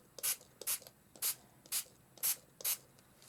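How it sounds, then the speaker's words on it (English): A spray bottle mists water onto fabric inked with Inktense, six sharp hissing bursts spaced about half a second apart, close and clear over near silence. "You can now spray directly onto bits you've just inked"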